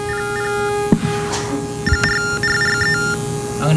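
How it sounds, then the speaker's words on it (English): A battery-powered pocket text terminal for the hearing impaired emits bursts of steady electronic data tones, short beeping patterns switching on and off over a persistent hum, with faint background voices and a few clicks. "This is a pocket terminal, battery powered."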